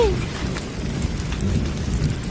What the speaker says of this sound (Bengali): এই এত বৃষ্টিতে ঘরের বাইরে কেউ পা রাখে?